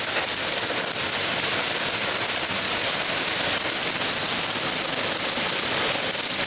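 Heavy rain mixed with a little hail pelts a truck's hood, a dense, steady hiss of close impacts without any pause and no voices.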